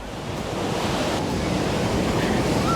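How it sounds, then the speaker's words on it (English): Ocean waves roll onto Copacabana Beach in Rio de Janeiro, a steady broad surf roar close by, with wind buffeting the microphone and no distinct breaks between swells. "some of those waves look killer over here"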